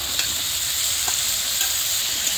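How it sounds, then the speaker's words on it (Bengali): Masala frying down in oil for a puti fish curry with potato and pointed gourd, a loud, continuous close sizzle with faint stirring scrapes. "মশলা আমি ভালো করে কষিয়ে নিচ্ছি, দেখেন কিরকম তেল ছাড়ছে আর জলটাও শুকাইছে"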